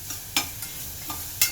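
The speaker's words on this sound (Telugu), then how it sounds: "తర్వాత పచ్చిమిరపకాయ వేసి ఇలా అల్లం వెల్లుల్లి వేసుకుని ఇలా కలుపుకోవాలండి ఫస్ట్" Onions, green chilies, ginger and garlic for biryani stirred in a hot pan, a close sizzling bed broken by several distinct scraping strokes of the spoon, with no voices.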